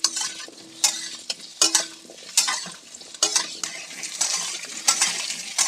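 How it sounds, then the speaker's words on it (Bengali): Potatoes sizzle frying in a pan while a utensil repeatedly scrapes and clinks against the metal in irregular strokes, close by. "তার মধ্যে আমার আলুটা ভাজা হয়ে যাবে"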